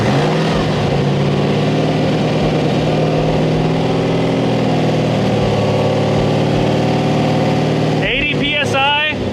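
A supercharged Nissan GT-R engine runs at a steady, loud, close-up idle with a deep continuous drone, and a voice speaks briefly near the end.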